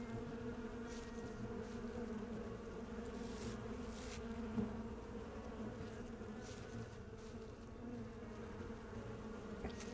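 A constant swarm-like buzz of insects hums on and on in the horror game Sucker for Love: Date to Die For, quiet yet persistent, with slight swells and no speech.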